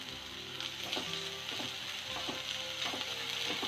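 Crushed ginger and garlic fry in a pan for chicken tikka masala, with a constant soft sizzle and a few light scraping stirs, near and moderately quiet, with no speech.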